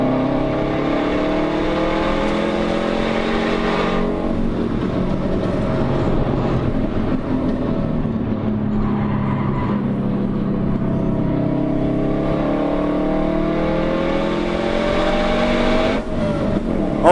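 A race car on a circuit at Carfest 2017, recorded from onboard, with its engine roaring loud and steady as it pulls hard through the gears, the pitch climbing and dropping with each shift over a long continuous run.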